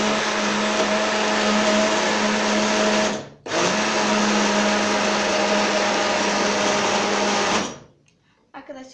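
A countertop blender whirs loudly while blending a homemade smoothie with honey on top. It runs steadily, cuts out briefly for a moment, then resumes and stops near the end.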